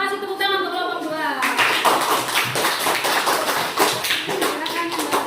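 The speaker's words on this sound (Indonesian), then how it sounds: "Kita kasih tepuk tangan untuk kelompok 2" A classroom of students claps together for a presenting group during a teaching assessment lesson, starting after a brief spoken line and continuing as loud, dense clapping with a few voices over it.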